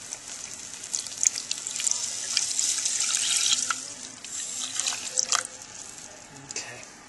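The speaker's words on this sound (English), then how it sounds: "we're going to add the milk now" Milk pours into a pot while macaroni and cheese is being made, a soft continuous liquid splashing and trickling that lasts several seconds at moderate volume.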